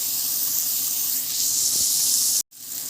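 Onion frying in butter in a pan for a moussaka tomato sauce gives a soft, continuous hiss and sizzle, fairly close and even, cutting off abruptly near the end.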